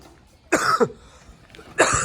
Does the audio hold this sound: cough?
yes